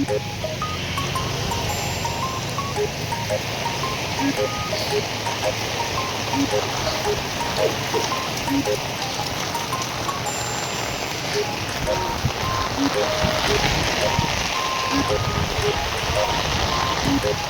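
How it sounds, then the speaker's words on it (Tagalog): Heavy rain falls steadily outdoors near a lighthouse, a dense, continuous hiss of drops spattering on surfaces with a gusty roar underneath for the full span. "Grabing ulan."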